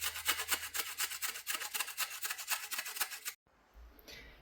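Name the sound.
grating fresh ginger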